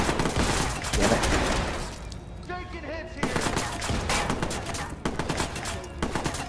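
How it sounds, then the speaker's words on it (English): Shotgun blasts ring out in the video game Watch Dogs: Bad Blood, several loud sharp bursts in rapid clusters amid other gunfire, with a brief quieter gap in the middle. "Gonna take out my shotgun."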